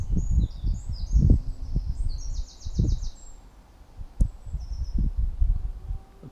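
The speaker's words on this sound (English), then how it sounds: "I don't know if you can hear the bird song" Several species of songbirds singing in a Dorset ancient woodland of derelict hazel coppice, high chirps and trills coming and going in the distance over close rustling and low thumping handling noise.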